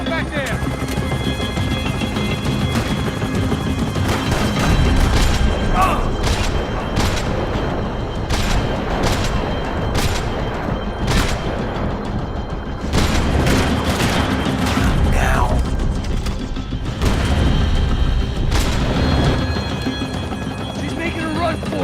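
Max Payne 3 gameplay brings bursts of gunfire cracking over a continuous helicopter rotor roar, with sharp shots scattered throughout and people shouting over the action.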